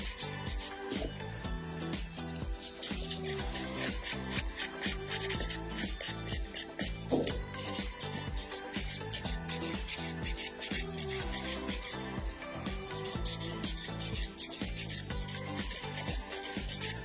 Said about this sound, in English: I'm going to use my miasecret file, and I am going to file my nail into perfection